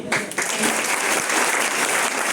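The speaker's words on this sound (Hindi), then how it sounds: "जोरदार ताली" A classroom audience in an organic chemistry lesson bursts into loud, dense applause that continues steadily for a couple of seconds.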